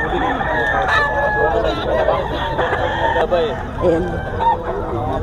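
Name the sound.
gamecock stag crowing and clucking at market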